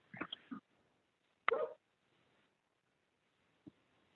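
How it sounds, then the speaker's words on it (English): Dogs bark faintly over a tinny phone line during a committee hearing call: a few brief muffled yaps, two quick ones near the start, one louder burst soon after and a last short one. "We hear animals out there barking."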